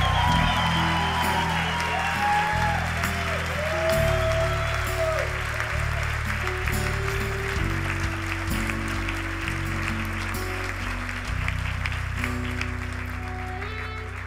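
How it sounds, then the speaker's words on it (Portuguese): A church congregation claps steadily and loudly for several seconds, with music playing underneath the sustained applause. "Pode aplaudir bem forte ao Senhor Jesus."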